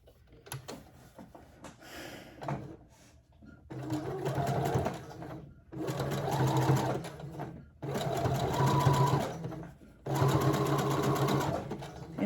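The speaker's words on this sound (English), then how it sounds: "I'm gonna use a zigzag. Just go in and fold it like this so that you got raw edge, and then you just sew on here." A sewing machine stitches a zigzag stretch stitch along folded fabric edges on a toddler halter top, running in four or five steady mechanical bursts separated by short pauses, close and fairly loud.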